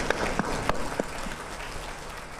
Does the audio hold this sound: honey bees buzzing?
no